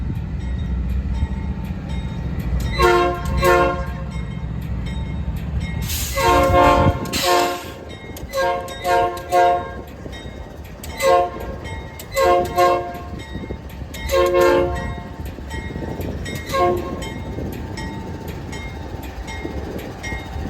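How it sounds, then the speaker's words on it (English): Locomotive 4390 sounding its horn in New Orleans with several loud, long blasts, then a series of shorter honks as it backs up, with rail rumble underneath and no talking. "Then he backed up and honked again."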